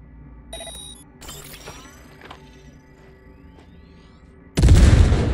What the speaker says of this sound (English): detonate the grenade